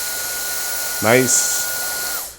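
A hair dryer blows a steady, loud broadband roar with a constant whine through a barber's blow-dry of hair. A brief voiced sound breaks in partway, and the motor winds down at the end.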